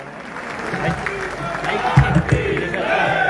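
Crowd applause at an event in Alwar ahead of a tiger marathon, a dense mass of clapping with cheering and raised voices mixed in, rising slightly midway.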